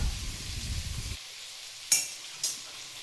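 Sliced okra (bhindi) with red chili powder and coriander sizzles in a pan as it is stir-fried, a soft hiss that drops away midway, followed by two sharp metallic clinks of a utensil against the pan.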